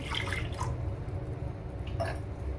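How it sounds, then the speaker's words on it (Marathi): Water is poured into a cooking pot to make vegetable stock for Manchow soup, a close, continuous splashing gush with a few brighter drips and splashes near the start and end. "सूप बनवण्यासाठी स्टॉक लागणार आहे, तो तयार करून घेऊ. पाणी टाकू."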